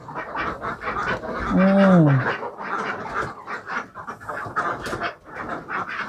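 Ducks in an enclosed duck room on a farm make soft, busy chattering and panting calls, with one clearer, louder honk-like call in the middle, all close by.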